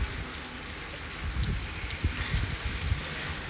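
Rain patters steadily on surfaces outdoors, a dense close hiss with scattered heavier drops and soft thuds, no voices.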